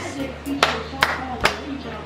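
Three sharp, evenly spaced claps from a group at a Fijian kava ceremony, close and distinct over a low background hum with faint voices.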